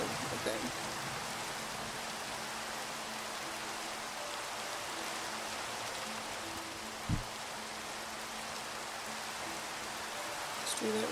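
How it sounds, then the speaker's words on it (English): Steady rain falls in the Minecraft video game as an even, hissing wash of noise that lasts throughout, with a faint low hum and one brief thump partway through. "and it's raining."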